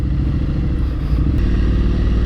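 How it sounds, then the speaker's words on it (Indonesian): A Triumph Street Scrambler 900 with a 900 cc engine idles and runs with a steady, throbbing low rumble, close and loud, shifting slightly in pitch partway through, with no voices. "motor ini tuh sebenarnya kayak motor kenceng banget sih, walaupun motor modern klasik, tapi menurut gua kenceng karena ya kapasitas mesinnya 900 cc"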